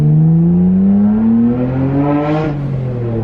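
On a Nissan R32 GTR, the engine revs climb with a rising whir, then the Blitz twin blow-off valve vents in a brief, sharp hiss near the end. The sound is loud and close, with no speech.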